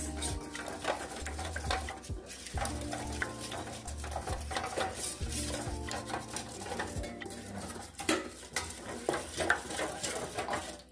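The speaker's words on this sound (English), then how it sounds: "so I am mixing it well. Make sure you mix it very well without any lumps." Baby pap being stirred in a bowl, a steady run of scraping and clinking from the utensil against the bowl that continues close and busy throughout, with no talk.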